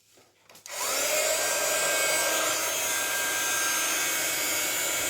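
Heat tool used on a winter-themed pocket letter craft, switching on after a brief quiet moment and then blowing with a steady, loud, even whoosh that holds right to the end.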